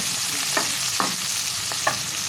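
Tomato and vegetables sauté in a hot pan for coconut tomato chutney, a steady sizzle broken by a few sharp scraping stirs of a spoon, close and alone.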